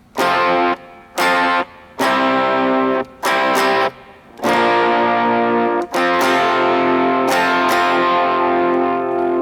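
Heavily distorted electric guitar through an Axe-Fx with overdrive stacked in series with a Rat fuzz model plays chopped, fuzzy chords in short bursts, then longer sustained strums with a gritty, saturated tone.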